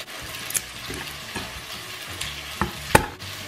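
Beef toasting with garlic in a pan for a beef stew, a steady sizzle broken by several sharp scrapes and clinks of a utensil stirring, close and fairly loud.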